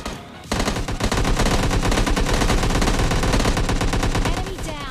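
In a video game, dense, rapid automatic gunfire bursts erupt after a brief quiet start and continue loudly and steadily at a vehicle, with explosive crackling throughout.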